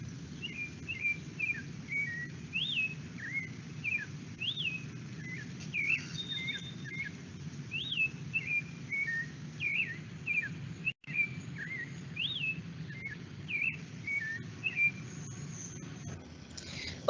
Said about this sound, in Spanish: este es el yigüirro, ¿verdad? Ahí por la silueta y por el sonido tal vez lo han reconocido